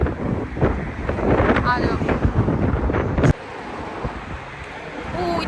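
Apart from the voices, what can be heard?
strong wind blowing outdoors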